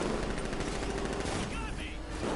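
Dense, continuous gunfire fills a video game battle, a loud rattling barrage with a voice faintly mixed in.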